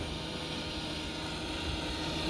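A Titan 54-inch drum mower runs on a John Deere 1025R 25-horsepower subcompact tractor, giving a steady, loud broadband engine and cutting roar with no talk.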